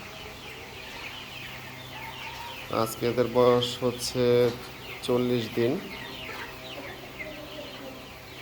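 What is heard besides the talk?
young chickens clucking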